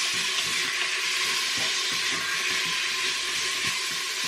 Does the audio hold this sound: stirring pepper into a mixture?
yes